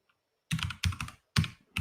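Bursts of computer keyboard typing at close range, four short clusters of rapid keystrokes separated by brief pauses, with no voices.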